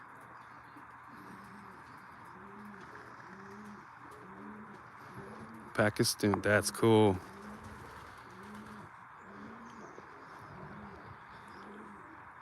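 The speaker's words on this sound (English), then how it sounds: "we're getting some dove now" Wild doves coo in a soft, repeated rhythmic pattern throughout, fairly faint and steady, while a person speaks briefly in the middle.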